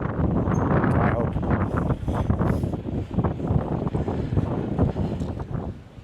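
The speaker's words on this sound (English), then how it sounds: "the wind is starting to pick up, obviously because it's the sea" Sea wind buffeting the microphone on a walk toward a pier and old lighthouse in Sorsogon, Philippines, a loud, gusty rumble with rustling bursts throughout.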